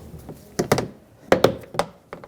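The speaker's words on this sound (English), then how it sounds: "You want to open this little door here." A small plastic access door on the door panel of a 2011-2018 Ram 1500 is pried and worked open, giving a series of sharp clicks and thunks in two clusters, close and loud, with no talk.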